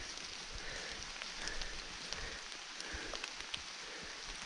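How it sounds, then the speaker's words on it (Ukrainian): Steady rain patters and hisses all around outdoors, with scattered heavier drops ticking close by. "Дощ паде, мусив защиту вдівати."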